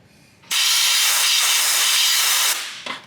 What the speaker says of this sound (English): just blow it out with some air